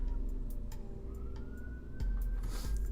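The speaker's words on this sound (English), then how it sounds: "Do you guys hear that police siren?" A police car siren outside a window, a faint wailing tone rising steadily in the distance beneath a low room hum, with a few soft clicks and thumps nearby.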